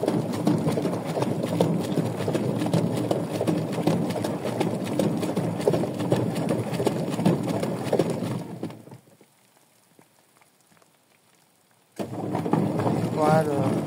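Brandt washing machine drum spinning up with its motor running, a steady loud churning rumble that continues for about nine seconds, drops to near silence for three seconds, then resumes.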